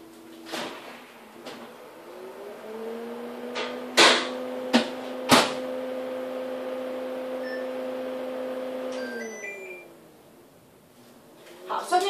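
A doughnut cake pan goes into the oven: sharp clacks and thumps of the pan and door, a steady motor hum running through the middle, beeps, and a final door clunk, with talking in the room.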